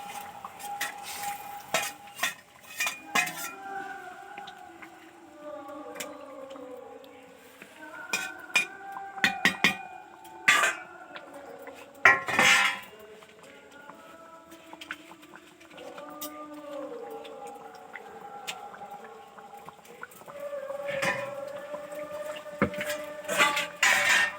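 Hilsa fish goes into a pan to cook in mustard sauce in a village kitchen, with soft sizzling, scraping and stirring clatter from utensils against the pan, and intermittent talk throughout.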